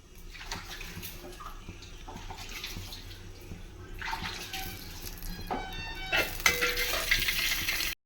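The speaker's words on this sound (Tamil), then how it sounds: "எண்ணெய் சேர்த்துக்கலாம்." Oil pours into a hot pan to temper spices for chicken pasta, giving soft hissing and sizzling with clinks and stirring, louder toward the end before stopping.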